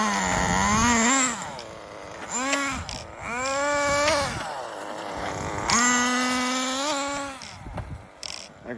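A small nitro engine on an HPI RS4 RC car at night buzzes nearby with a high, reedy whine, revving up and down in several rising and falling bursts.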